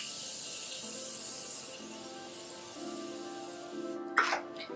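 Morphe setting spray is misted onto a face in a single brief, sharp hiss near the end, standing out over soft background music.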